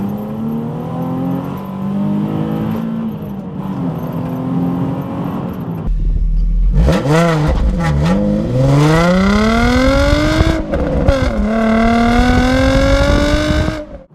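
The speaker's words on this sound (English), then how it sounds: "The good thing about it though is the noise it makes on the standard exhaust" A car revs through its standard exhaust back box: a steady low drone, then sharp blips and a long, loud rising rev that holds high and open, with no voices.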